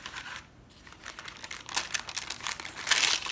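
Thin phyllo pastry sheets for a Greek cheese pie crinkle and rustle as they are folded over by hand, close crackly bursts that swell louder toward the end, with no talking.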